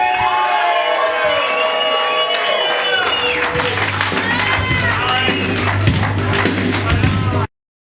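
A live show audience at the Scarlet Lady screams and cheers loudly, with shrill overlapping shrieks and whoops swelling into a dense roar of cheering and applause before cutting off abruptly.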